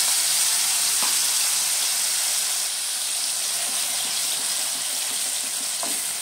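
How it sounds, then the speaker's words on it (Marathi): Onion and green chili paste sizzles steadily in about three spoons of hot oil in a pan while matar paneer is being cooked, a loud continuous fry hiss with a couple of faint stirring clinks. "आता आपल्याला कांदा मिरची पेस्ट करून घेतलेला हे घालायचं आहे याच्यात"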